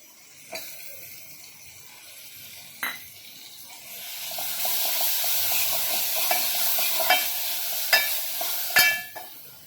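A ground paste of roasted onion, coconut, ginger and garlic with a little coriander drops into a hot pan, sizzling steadily and loudly, with sharp clinks and scrapes of stirring at intervals.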